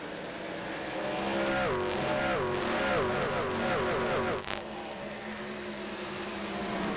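A race truck at Motegi downshifts with a rapid series of falling engine pitch steps, loud and close, then settles into a lower steady drone.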